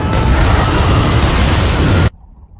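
A loud, roaring explosion aboard the Kursk submarine in a film fills the clip with a dense, sustained blast that cuts off abruptly into near silence.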